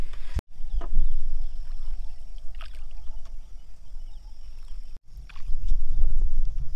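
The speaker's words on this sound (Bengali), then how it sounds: "তার মাঝখানে হচ্ছে আমরা এরকম নৌকা ভ্রমণ করছি" A small boat moves along a river through dense forest, with low rumbling water and hull noise, occasional splashes and knocks, and gusts of wind buffeting the microphone, cut by two brief dropouts.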